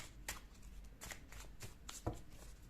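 Tarot cards are shuffled by hand, close and fairly quiet, in several quick papery riffling bursts spaced out over a faint background hum.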